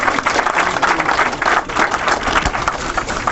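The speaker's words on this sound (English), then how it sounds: "Big round of applause again." Audience clapping at a Somali students' award ceremony in London, a dense, steady round of applause from many hands that holds throughout without pause.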